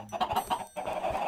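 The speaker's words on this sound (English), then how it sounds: "Chickens? Yep." Chickens clucking in the video game Minecraft, a short run of soft, close clucks with a brief pause partway through, with no talk over them.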